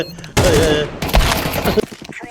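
Video game gunfire erupts in dense, rapid bursts of shots that fill most of the moment, loud and close, with a voice briefly audible among the shots.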